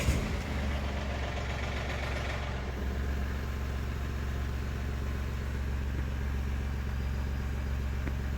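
A car engine running steadily at low revs while being eased out of a tight parking spot, a continuous low hum with a brief louder start.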